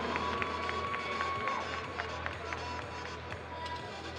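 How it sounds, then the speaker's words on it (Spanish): Applause and cheering from a crowd at a bodybuilding and fitness competition in Mexico, a sustained broad wash of clapping and voices with a faint tone running beneath. "pues fuerte el aplauso para estos dos atletas"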